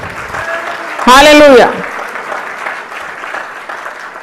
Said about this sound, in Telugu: గట్టిగా చప్పట్లు కొట్టి దేవుని స్తుతించండి